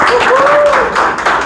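An audience claps at a church class on prayer life, the broad patter of applause lasting throughout with a voice or tone sounding over it.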